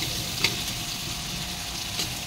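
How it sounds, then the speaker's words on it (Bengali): Onions fry in ghee and refined oil in a pan, giving a steady close sizzle with a couple of faint clinks of stirring. "পেঁয়াজটা একটু ভাজা ভাজা হোক"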